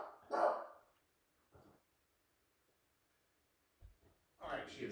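A dog barks in short bursts, one at the start and another near the end, with a faint yelp between and quiet room tone around them, heard at a middling distance.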